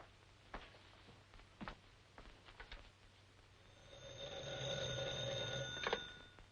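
An old-fashioned telephone bell rings steadily in a quiet room in the latter half, after a few faint knocks and movements.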